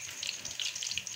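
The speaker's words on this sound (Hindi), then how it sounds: "हमारे गोभी के पकौड़े अभी फ्राई होना शुरू हो चुके हैं।" Cauliflower pakoras deep frying in oil over medium heat, a steady close bubbling crackle with fine popping spatters throughout, no speech.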